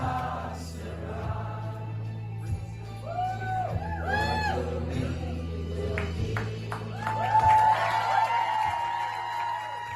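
A live event crowd cheering, whooping and shouting over a steady low musical drone, voices rising and falling close by with a louder swell near the end.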